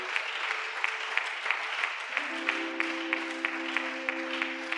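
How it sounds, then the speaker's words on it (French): A church congregation claps in steady rhythmic unison during a thanksgiving service, a bright even patter of hands with held sung or organ-like tones underneath, sustained and moderately close. "Est-ce que nous pouvons acclamer pour Jésus?"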